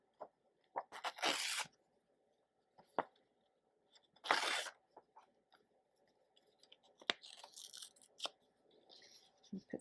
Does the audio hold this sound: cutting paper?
yes